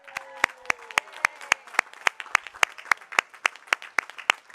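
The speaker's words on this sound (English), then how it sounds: "Let's have first a round of applause for all of our new citizens" Applause rings out for new citizens at a naturalization ceremony, a steady run of sharp, fairly even claps from a modest gathering that continues evenly throughout.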